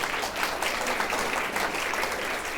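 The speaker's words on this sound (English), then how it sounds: "Please give one more round of applause to our panel members here." Brief, dense burst of audience clapping for legislative panel members at a town hall on Kentucky children, steady and full throughout with no speech on top.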